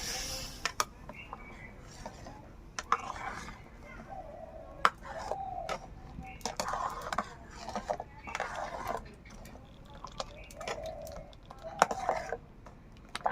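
A spoon stirs mustard paste into mango kasundi in a pot, making soft wet squishing and intermittent scraping clicks. A person speaks over the mixing.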